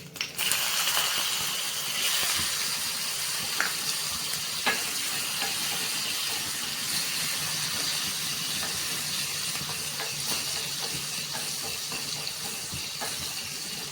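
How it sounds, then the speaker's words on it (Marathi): Chilli pieces and a couple of pinches of asafoetida fry in a pan for a spinach koshimbir, making a quiet, steady sizzle with occasional small clicks and pops. "आता आपण ह्यात 2 चिमूट हिंग घालणार आहोत आणि मिरचीचे तुकडे देखील आपल्याला ह्यात परतून घ्यायचे आहेत।"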